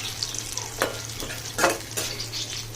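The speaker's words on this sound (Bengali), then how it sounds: "আমি আজকে রান্না করতেছি হচ্ছে ডাটা শাক ভাজি করবো, ডাটা শাক ভাজি।" Data shak stem greens stir-frying with potato in a home kitchen pan, a steady loud sizzle broken by a few scraping stirs, close up with a low hum underneath and no talking.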